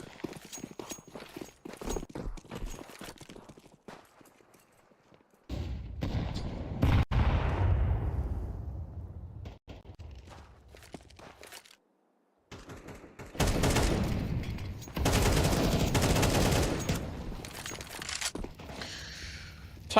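MP9 gunfire in a Counter-Strike esports match, rapid bursts of shots in clustered volleys separated by brief quiet gaps, with crowd and game noise filling the background.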